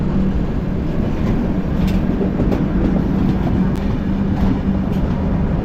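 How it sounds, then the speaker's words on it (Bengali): A train bound for Amritsar rumbles past Alamnagar station with a steady loud roar and faint clickety-clack from the wheels, heard from a nearby train standing at the platform. "ওপার থেকে একটা অমৃতসরের ট্রেন পার হয়ে গেল"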